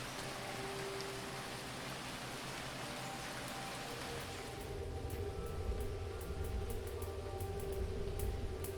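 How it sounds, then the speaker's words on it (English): Heavy rain pours down in the video game Phoning Home as a dense, steady hiss of drops, fairly soft and even throughout, with faint ticking patter joining in toward the end. "When the rain is pouring down."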